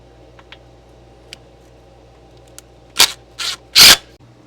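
Three short, loud bursts of an impact driver driving screws near the end, each a quick whirring rattle, after a few faint ticks in a quiet room.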